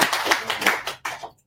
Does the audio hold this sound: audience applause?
yes